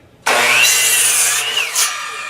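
A hand saw cuts along a marked kerf line in a concrete-casting mold stacking setup. One loud, close stroke starts suddenly, rasps steadily for about a second and a half, then trails off with a short second scrape.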